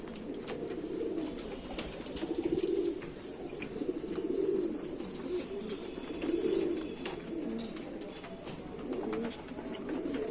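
Rampuri pigeons give repeated soft, throaty coos in rolling phrases at close range, with faint rustling behind them.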